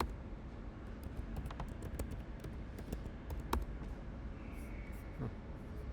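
Computer keyboard typing during SQL Server setup, a short run of quiet, irregular key clicks close by over a steady hiss of room noise.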